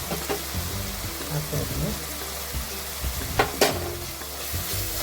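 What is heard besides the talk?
ginger garlic paste frying and stirred in pan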